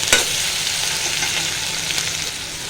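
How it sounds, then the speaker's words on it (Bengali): Garlic paste and onions sizzle in a frying pan as they are stirred, a steady close hiss of frying with scraping of the spoon, no voices. "এই পর্যায়ে আমি রসুন দিয়ে দিচ্ছি, 1 চামচ রসুন বাটা। কিছুক্ষণ নাড়াচাড়া করব।"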